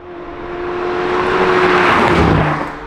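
A McLaren 750S Spider with a pure combustion V8 drives past close by, its engine note swelling to a loud roar and then fading, with a steady tire hiss underneath.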